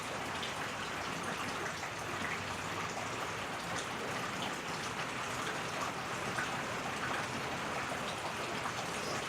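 Rain falls on soaking-wet woods, a dense, even patter of drops hissing continuously across leaves and ground at moderate loudness with no other sounds standing out.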